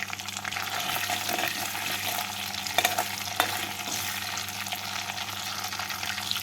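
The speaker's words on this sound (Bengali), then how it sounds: "এই তেলের মধ্যে দিয়ে দেবো দুটো চেরা কাঁচা লঙ্কা আর দেবো এক স্পুন কালো জিরে ফোড়ন" Slit green chillies and nigella seeds tempering in hot oil, a bright continuous sizzle with a couple of sharp crackles, close and steady without speech.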